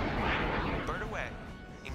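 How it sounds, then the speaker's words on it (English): Missile launch aboard a vessel in the Dangerous Waters naval combat game, heard as a loud burst of rushing noise with mid-frequency swooshes over a steady rumbling background, with voices talking throughout. "Take him out with a missile."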